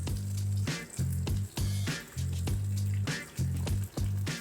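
Green chillies sautéing in a pan, a steady close sizzle broken by regular short pauses, roughly every half second to second, as the pan is stirred or shaken.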